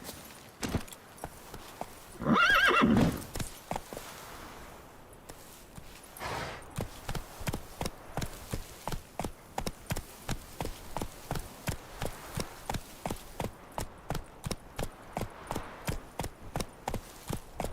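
Roach the horse in The Witcher 3 with a loud neigh early on, then steady rhythmic galloping hoofbeats on the ground that carry on to the end.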